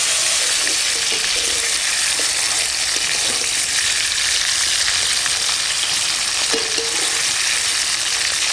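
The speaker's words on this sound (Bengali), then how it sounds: "টমেটো ভাজা হয়ে গেছে" Chopped tomatoes frying in oil with bay leaf, dried red chilli and cumin, a steady close sizzle with occasional stirring scrapes and clicks, no voices.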